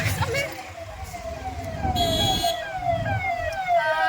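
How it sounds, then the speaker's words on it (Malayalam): An ambulance siren wails with rising and falling sweeps as it passes along a busy Agra street, loud and fairly near over steady traffic rumble. "പോലീസ് അല്ല, പോലീസ് ഓ ആംബുലൻസ് ആണോ എന്തിലാണ് ആംബുലൻസ്"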